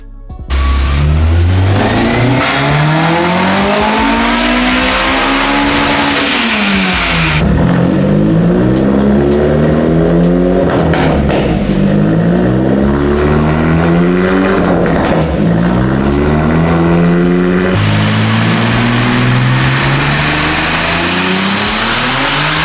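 A turbocharged Nissan KA24DET engine runs on a dyno, loud and close, rising through repeated full-throttle revving sweeps and dropping back between pulls, with no voices.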